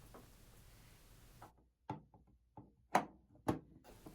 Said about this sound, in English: Then if you took the filter door off, reinstall that.